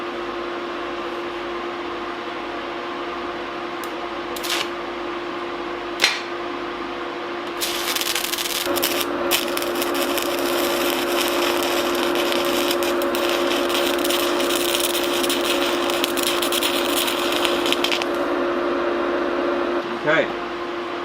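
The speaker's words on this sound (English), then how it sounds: "I started welding and already I can tell my amperage is way low." Stick electrode arc welding set at too low an amperage, heard as a steady crackling, buzzing hiss that starts partway through and runs over a constant background hum for about ten seconds.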